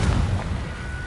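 A Confringo blasting spell from Hogwarts Legacy goes off as one heavy, close explosive burst with a low rumbling body that fades over about a second.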